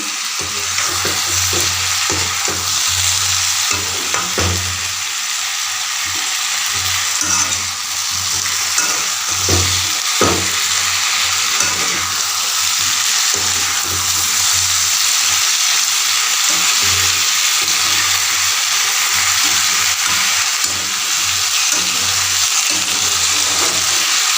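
Potatoes fry with small shrimp in a hot pan, giving a steady loud sizzle with occasional stirring clatters, and no voices.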